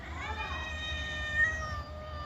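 A cat gives a single drawn-out, wavering meow close by, over a low background hum.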